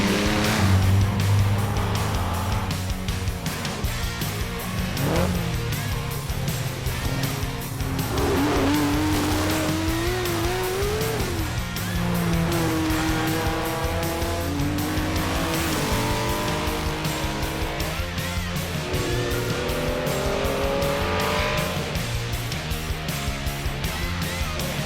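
Classic race cars run hard on a closed timed special stage at the Tour Auto 2017, engines revving and shifting continuously, with rising and falling pitch as the cars accelerate past, loud and close throughout.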